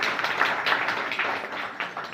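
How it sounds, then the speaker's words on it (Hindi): A gathering of village leaders and panchayat members applauds, a loose, moderately close patter of clapping with uneven bursts over about two seconds, no speech on top. "जोरदार तालियां"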